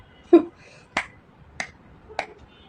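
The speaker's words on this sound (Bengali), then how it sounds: "এই তিনটা তালি আপনাদের জন্য" Sharp, slow hand claps given as a sarcastic gesture, about four crisp isolated smacks spaced evenly around half a second apart, close and clear against near silence.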